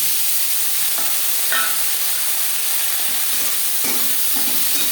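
Broad beans and eggplant fry in hot oil with green chilies, giving a constant loud sizzle up close, broken by a few scraping stirs and clatters.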